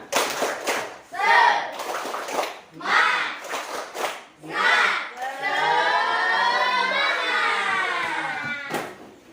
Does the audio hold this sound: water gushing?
no